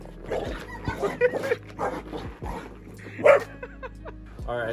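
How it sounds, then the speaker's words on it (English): A family dog barks and whimpers in a string of short, close yips and whines with uneven rhythm, some louder bursts standing out. "Say hello to the family dog."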